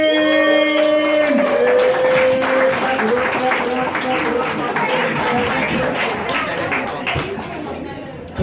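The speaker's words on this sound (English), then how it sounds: "Clap it up, everybody!" A comedy club audience claps and cheers for comedian Mo Green, with applause and crowd chatter swelling at first and then thinning, while music plays underneath.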